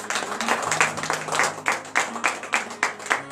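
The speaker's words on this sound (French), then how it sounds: "Donc je vous demande d'applaudir très fort." A congregation at a morning prayer service in Benin claps in a regular rhythmic beat, sharp unison hand claps repeating about three times per second, close and clear.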